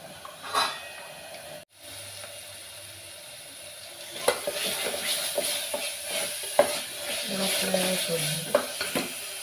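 Ingredients for a crab curry fry in a pan while being stirred: a loud, continuous sizzle and hiss with repeated scraping and clacking strokes of a utensil against the pan, close up and without talk.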